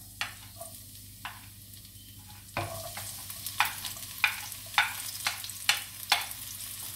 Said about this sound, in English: Put the garlic and the onions.